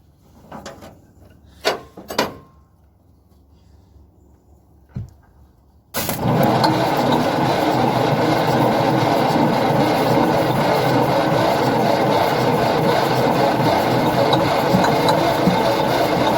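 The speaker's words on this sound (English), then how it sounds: "We're going to try that starter again." An abandoned rig's engine, unrun for more than thirty years, starts: a few faint clunks and clicks come first, then it fires at about six seconds and settles into a loud, steady, close idle that continues to the end.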